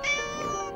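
A cartoon cat gives a single clear, drawn-out meow, close and alone, in an animated Mr Bean treasure hunt episode.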